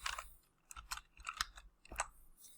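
Keys clatter on a computer keyboard in a few quick, faint bursts of clicks separated by short pauses, with no one speaking.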